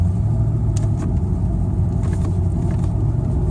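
A Ford XR8 with an automatic transmission pulls hard in first gear under full throttle, a loud, steady, close engine roar and rumble that holds throughout without any talk.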